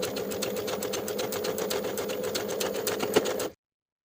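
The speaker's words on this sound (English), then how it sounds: "Sew the short seam with a 3/8 inch seam allowance and press the seam open." A sewing machine runs a straight stitch along a short knit neckband seam, humming with a fast, even needle rhythm up close for about three and a half seconds before stopping abruptly.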